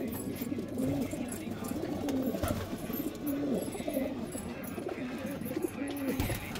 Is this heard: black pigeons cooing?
yes